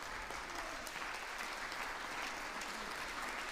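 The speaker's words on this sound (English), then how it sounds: "Tim Scott, at least Tim Scott could clap." Sustained applause fills the chamber of Congress, a dense, even clapping from a large audience heard at moderate distance with no break for the full length.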